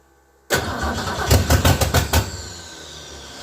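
Old Ford Ranchero engine cranking in several rapid stuttering turns before catching and settling into a rough idle, loud and close, with no voices.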